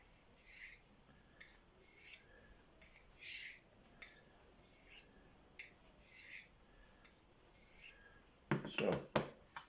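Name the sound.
knife sharpening on hand-held Venev diamond stones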